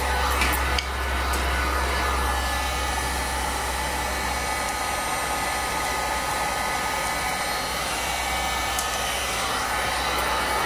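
A hair dryer blows hot air onto tape stuck to an air dry clay project, a loud, steady, close whooshing hum that runs continuously with no talk.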